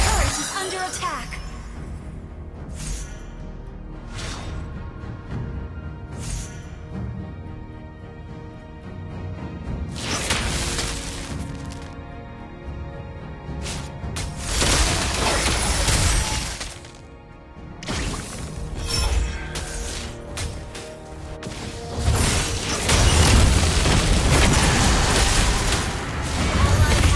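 A turret under attack in the mobile battle game Mobile Legends: Bang Bang, heard as a loud run of shattering crashes, booms and impact bursts that come in dense clusters over a busy game soundscape.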